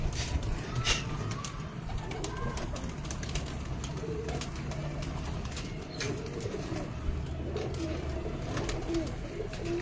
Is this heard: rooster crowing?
no